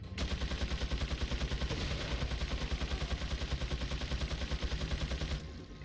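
Enemy gunfire in the video game Resident Evil 4: a rapid, steady stream of loud shots that repeats evenly for about five seconds, then cuts off abruptly.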